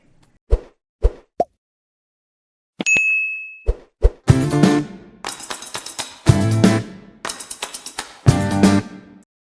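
A short series of bright notification dings and plops, some isolated pops and one sustained bell tone, followed by rhythmic bursts of chimes.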